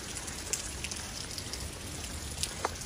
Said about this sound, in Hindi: बारिश देखो तुसी, बारिश नहीं रुक रही